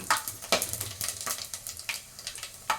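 Biryani masala crackling in hot ghee and oil, close sputtering pops and sizzling bursts that repeat in quick irregular pulses.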